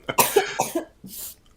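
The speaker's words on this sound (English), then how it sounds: "I still have a cough." Close, dry coughing from one person in a quick cluster of sharp hacks, then a softer breathy exhale at the end.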